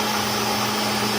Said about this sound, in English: Well, we'll do a few more pulses. Gotta love the Vitamix.